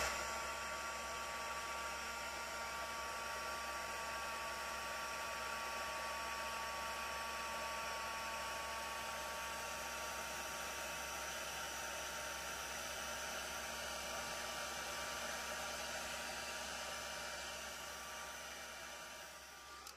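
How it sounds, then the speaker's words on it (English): A handheld heat embossing tool runs steadily, melting embossing powder on a card; a continuous, loud blowing hiss with a faint motor whine holds for about twenty seconds, fading slightly at the end, with no talking. "And when you use your heat embosser, it changes that dull powder to shiny bright."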